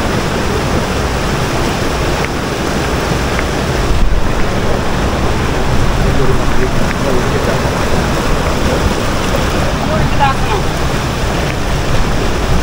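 A waterfall and a strong river current roar in a hilly wilderness, a loud unbroken rushing wash that fills the space close by, with a voice faintly speaking beneath it.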